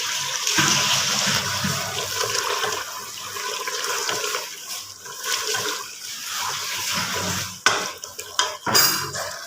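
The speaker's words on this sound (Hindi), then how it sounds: "अब हम इसमें शामिल कर दिया पानी।" Water is poured into a pot of frying mutton and potatoes, giving a loud, continuous sizzling hiss and splash close up, then a few sharp metallic clinks of utensils against the pot near the end.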